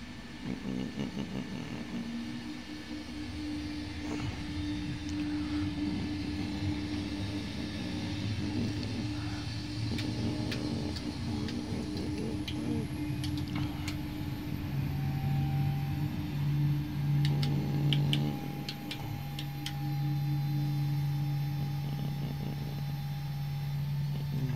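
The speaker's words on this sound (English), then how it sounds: "Come on, APU, just start." Auxiliary power unit of a Level D 737-800 in a flight simulator game spooling up, a steady mid-pitched whine and low rumble that gradually rises in tone, with a faint high hum and no talking.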